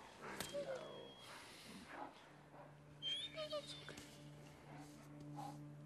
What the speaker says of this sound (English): He's not infected. He's just a dog.